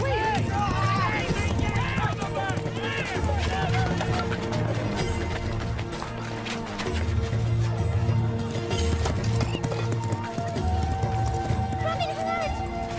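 Horse hooves clatter in a busy scene near a market, the clip-clop mixed with shouting voices, a horse's whinny and dramatic music throughout.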